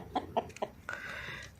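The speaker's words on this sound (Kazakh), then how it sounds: "әтешімен тауығы" An Uheilu breed rooster and hen cluck nearby, three short clucks followed by a longer drawn-out call, fairly faint, with no speech.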